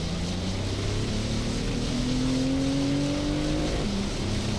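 A Cadillac CT5-V drives hard around a track with a steady, loud engine drone whose pitch climbs slowly through a gear, then drops briefly near the end before holding again.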